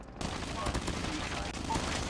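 Rapid automatic fire from an MSMC submachine gun in Call of Duty Mobile, a dense continuous stream of close, loud shots running through the clip, with a brief quiet start.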